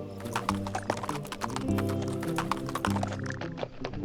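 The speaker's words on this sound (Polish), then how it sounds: "Z ostatniej chwili koń nam wyleciał poza mapę." A horse gallops in the golf video game What the Golf, a rapid, busy clatter of hoofbeats mixed with game music and effects, continuous and fairly loud throughout.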